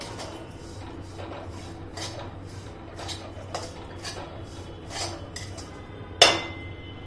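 A spatula scrapes and taps against a pan while sambar vadi filling is sautéed, soft repeated scraping strokes at a steady pace, ending in one sharp metallic clink near the close.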